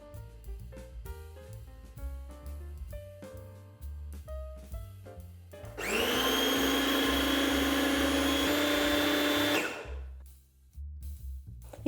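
A food processor with a chopping blade whirs loudly for several seconds chopping grated potato, after some quieter clattering, then cuts off abruptly.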